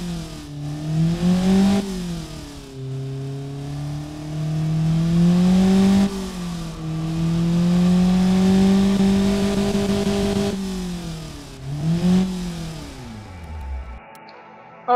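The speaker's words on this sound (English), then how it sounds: "Let's hear the new exhaust" A tuned car engine with a new aftermarket exhaust revs repeatedly, rising and falling in pitch with a deep, raspy exhaust note, loud and close, before cutting off near the end.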